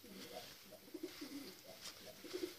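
Soft, low cooing of racing pigeons repeats in short phrases against a faint background hiss, fairly close.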